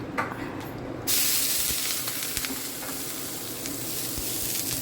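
Dosa batter hits a hot pan and bursts into a loud, steady sizzle and hiss that continues up close for several seconds in a home kitchen during a breakfast routine.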